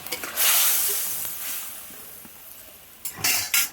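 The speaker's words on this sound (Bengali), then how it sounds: "দেখো ঝোলটা ফুটে গেছে" Fish curry gravy bubbling in a pan, a hissing, simmering bubble close by with a few clinks of a utensil against the pan.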